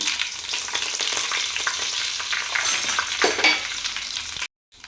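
Mustard seeds and curry leaves crackle and sizzle loudly in hot oil for tempering, with popping bursts and stirring, continuous until an abrupt cut to silence near the end.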